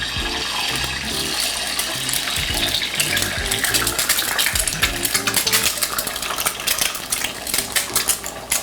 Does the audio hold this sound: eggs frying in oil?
yes